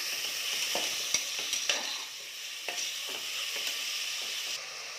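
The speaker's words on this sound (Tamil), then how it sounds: "பச்சை மிளகாவும் போட்டுடலாம் இது நல்லா வதங்கட்டும்" Green chillies sauté in a pan with a soft, continuous sizzle, broken by several sharp scrapes and stirring clicks spaced through it. No one speaks.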